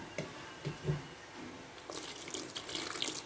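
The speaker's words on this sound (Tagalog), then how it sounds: "Ayan, lagyan po natin ng konting water." Water runs from a tap, trickling and splashing briefly, while a small amount is added to fried banana batter in a home kitchen; close, soft, steady pouring with no talking.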